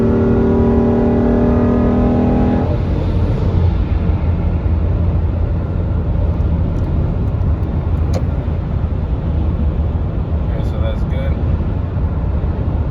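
Car revving and accelerating hard on a used-car test drive, a loud steady engine roar with harmonics dropping away after a few seconds into broadband road and engine rumble, alone without talk.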